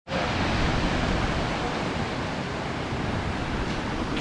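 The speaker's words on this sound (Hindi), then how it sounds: "यहाँ से पानी की इतनी आवाज़ आ रही है" Water rushes steadily through the Head Jamrao canal headworks on the Indus in Sanghar, Sindh, built in 1889: a loud, unbroken broadband roar that holds for the whole span with no voices.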